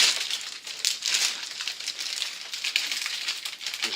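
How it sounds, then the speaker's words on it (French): The packaging of a Corsair K95 RGB keyboard being unboxed, heard as continuous close crinkling and rustling of wrapping with no voice over it. "Allez, c'est parti au déballage."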